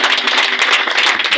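Church congregation applauding and acclaiming Jesus, a dense, steady burst of close clapping with voices mixed in, loud and sustained through the short moment.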